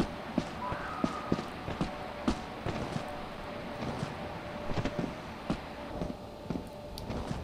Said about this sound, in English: Hearing footsteps.